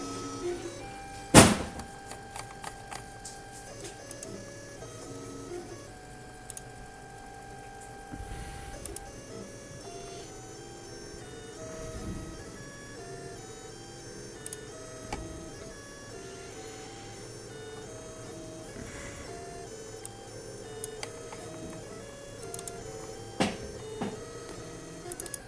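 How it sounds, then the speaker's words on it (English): A Solidoodle 3D printer printing small plastic chains whirs and buzzes steadily with stepper-motor tones shifting in pitch, a sharp click near the start and occasional knocks, heard close over a quiet room. "I am printing 10 little plastic chains here"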